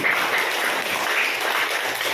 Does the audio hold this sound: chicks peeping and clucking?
no